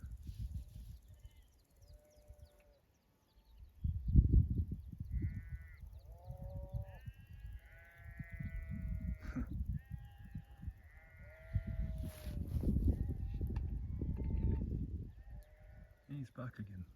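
Sheep bleat outdoors in Scotland in a series of wavering calls, some near and some farther off, spread across the stretch with people talking and wind or handling noise underneath.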